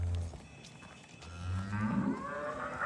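Red Friesian cross cow and her newborn red heifer calf lowing on a farm, a deep moo at the start and a longer rising bellow toward the end, close and fairly loud, with no talk.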